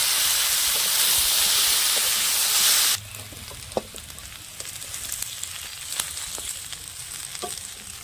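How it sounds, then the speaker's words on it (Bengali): Potatoes and jackfruit fry slowly in a pan over medium heat, a steady bright sizzle that loud for a few seconds then drops to a quieter crackle with occasional pops and stirring taps. "এভাবে আস্তে আস্তে ভেজে নিতে হবে আলু আর এঁচোড়টাকে"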